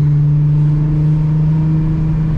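A Volkswagen Golf with a six-cylinder engine and aftermarket exhaust gives a deep, steady droning hum heard from close up, holding an even pitch for a couple of seconds.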